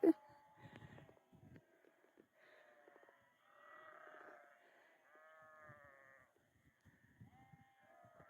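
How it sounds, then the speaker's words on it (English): A herd of about 300 sheep bleat at once on a Colorado trail, overlapping calls near and far, with soft rustling and shuffling underneath. "I just came across a herd of like 300 sheep"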